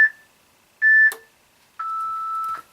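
Three electronic workout timer beeps close by, two short high tones followed by a longer, slightly lower tone, each clean and sharp against near silence.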